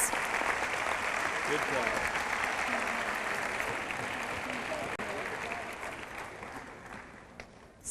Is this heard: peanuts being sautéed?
no